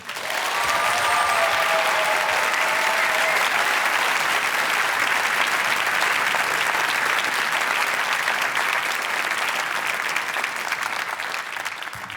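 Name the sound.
audience applause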